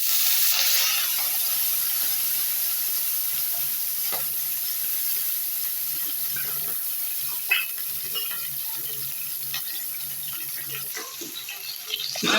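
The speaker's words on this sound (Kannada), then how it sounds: "ಹುರ್ಕೋಬೇಕು ಎಣ್ಣೆನಲ್ಲಿ ಮೆಣಸಿನ್ಕಾಯಿನ" Green chillies fry in hot oil in a home kitchen, giving a steady, soft sizzle that runs unbroken throughout, with occasional louder spits and crackles.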